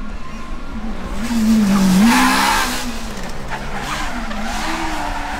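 A Formula Student race car on an autocross run at a historic autocross event, its engine note rising and falling with tire squeal as it corners, fairly loud and steady throughout with no voices.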